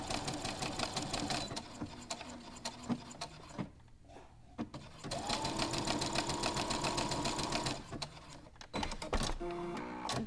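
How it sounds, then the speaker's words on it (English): A sewing machine running a zigzag stitch in a beginner's sewing session, its rapid mechanical whir in two bursts separated by a brief pause, close and steady, ending with a few handling clicks. "So now we're going to angle back over here and we're going to do a zigzag stitch."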